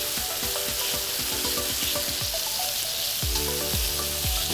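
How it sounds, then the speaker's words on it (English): Bacon sizzling and frying in a pan, a constant bright crackle with scattered sharp pops and occasional scraping clicks from stirring, no voices. "So my bacon is still cooking"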